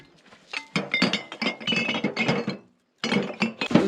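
Saved glass bottles clink and knock together, loading into a cement mixer for making sea glass, in a dense run of close, bright clatters broken by a brief pause.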